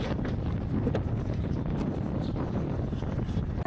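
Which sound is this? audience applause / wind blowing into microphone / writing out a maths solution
wind blowing into microphone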